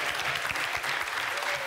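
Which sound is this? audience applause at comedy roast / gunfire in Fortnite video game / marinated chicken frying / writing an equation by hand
audience applause at comedy roast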